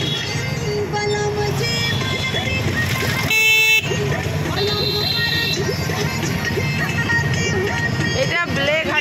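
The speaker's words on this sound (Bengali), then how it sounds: "প্রচুর রাস্তা জাম হয়ে যায়।" A traffic jam on the Beleghata market road: a low rumble of engines with repeated car and motorbike horn toots over a busy street, and voices talk over the noise.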